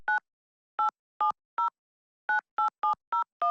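Phone keypad tones tapping out a short melody, nine crisp beeps in an uneven rhythm with clear gaps of silence between them, clean and alone.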